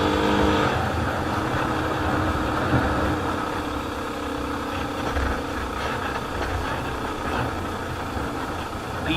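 A vehicle engine labouring uphill in second gear on a mountain road toward Muktinath in Mustang, Nepal, a loud, continuous strained drone close by.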